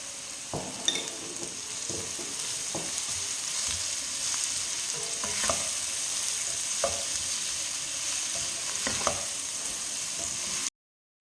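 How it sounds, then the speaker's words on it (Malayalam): Onions and shallots frying with salt in a pan for chicken kurma, a steady close sizzle with occasional spatula scrapes and stirs, no talking. "ഇനി നമുക്ക് സവോളയും ചുവന്നുള്ളി ഇടാം ഇത്തിരി സാൾട്ട് ഇട്ട് കൊടുക്കാം"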